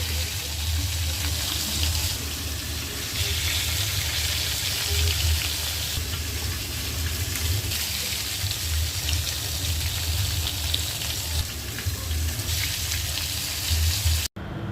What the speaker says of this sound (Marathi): आणि ही मच्छी फ्राय करताना फक्त हाफ फ्राय करायचे